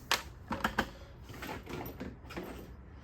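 A 10 mm wrench works the seat bolts on a Kawasaki KDX250 dirt bike, giving a quick burst of sharp metallic clicks near the start, then softer scraping and rattling handling noises close by.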